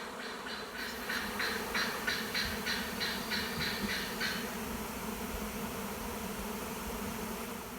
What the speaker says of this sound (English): We've got some bee action happening.